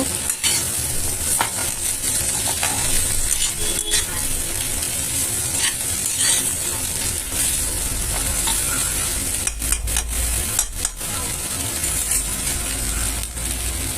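Spices frying with garlic and ginger in a pan for a wedding-style matar paneer, giving a continuous crackling sizzle close up. Repeated spoon scrapes and taps on the pan sound throughout, with a few sharper clinks near the end. Nobody speaks.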